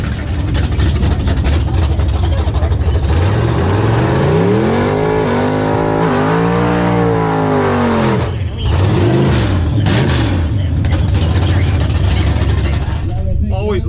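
A Tesla Model S lines up against a Monza for a drag race run, with a loud, steady mechanical drone close by and a rising and falling engine note midway, then a brief dip before the roar resumes.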